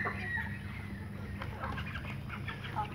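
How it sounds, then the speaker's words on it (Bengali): Golden Fayoumi and Black Australorp chicks, with white Egyptian Fayoumi chicks, cluck and peep softly in a steady chorus under low farm background noise. "এটা হচ্ছে গোল্ডেন ফার্মি মুরগির বাচ্চা"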